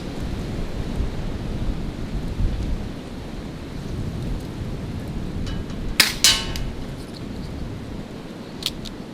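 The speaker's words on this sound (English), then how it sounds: "this wind is blowing like a son of a gun, as you can tell" Strong wind blows steadily outdoors at a shooting range, a broad low rumbling roar with gusty swells, broken near the middle by a brief sharp crack and later a faint click.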